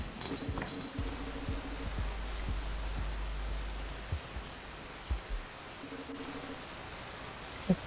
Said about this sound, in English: It's raining water.